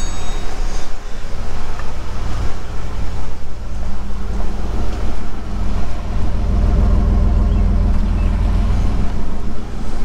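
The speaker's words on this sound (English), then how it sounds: "she is back running after sitting for so long" A 2000 Chevy Blazer engine runs after years of sitting, a loud, steady low rumble that continues through the whole clip.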